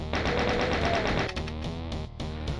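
Chaingun in Doom 2 firing a rapid, steady burst of repeated shots, loud and close, with the rattle breaking up toward the end.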